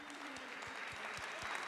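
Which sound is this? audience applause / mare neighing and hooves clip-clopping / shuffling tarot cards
audience applause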